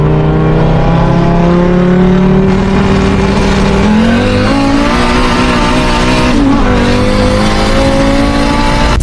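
A turbocharged car on a two-step rev limiter holds a loud, steady, buzzing high-rev drone with rising engine pitch, then launches hard. The sound is close and continuous, and no one speaks.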